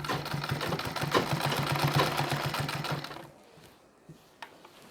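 A sewing machine stitches a border strip onto a Nauvari saree in a rapid, even mechanical chatter for about three seconds, then stops, leaving a quiet room with a couple of small clicks.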